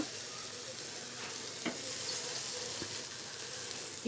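Meal maker soy chunks frying in oil with salt and chilli powder, a continuous bright sizzle with a couple of faint stirring clicks, close and steady, no voices.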